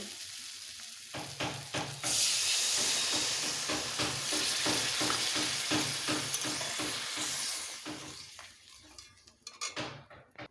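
Water poured over sautéed potatoes in a hot pan for a fish roe masala curry erupts in a loud, sustained hiss and sizzle for several seconds, with scraping stir strokes before and after, then settles back to quieter stirring.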